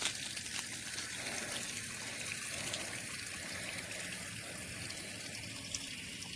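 Water runs steadily from a kinked garden hose during evening outdoor chores, a constant close hissing trickle and gush that continues without a break, with no talk over it.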